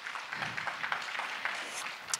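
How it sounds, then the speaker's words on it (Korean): A small audience claps to congratulate a new member joining a Korean political talk event. The applause is brief, moderately faint and steady, with a few sharper claps standing out. "축하 박수 부탁드립니다"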